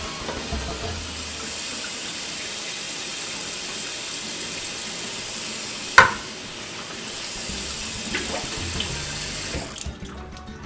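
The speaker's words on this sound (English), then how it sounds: "We're going to drain our cans." Liquid from opened food cans pours and drains into a kitchen sink while making salsa, a steady running-water wash throughout with a sharp clank near the middle and a few small knocks toward the end.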